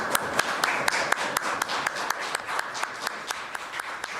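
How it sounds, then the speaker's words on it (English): Clapping in the Canadian House of Commons chamber, a steady rhythmic round of applause with sharp regular hand claps standing out over a softer bed of many hands, moderately distant. "Clapping and hugs for a job that Dominic LeBlanc is tasked with doing"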